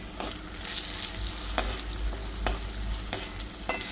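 Garlic and turmeric fry in hot oil with a close, continuous sizzle, broken by a few sharp clicks of a spoon against the pan.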